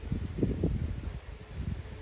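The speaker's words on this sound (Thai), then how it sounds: "ลมแรงมากนะ" Strong wind buffeting outdoors at night, a low gusty rumble against the microphone with a thin steady chirr of insects above it, no voices.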